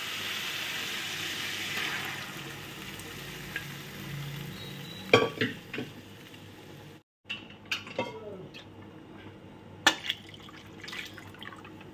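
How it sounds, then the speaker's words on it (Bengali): Urad dal (biulir dal) tipped into well-fried spice masala in a hot pan, giving a soft steady sizzle with a few sharp clinks and scrapes of stirring in the second half. "দেখো, মশলাটা ভালো করে কষিয়ে নিয়েছি। এইবার ডালটা এর মধ্যে দিয়ে দেবো।"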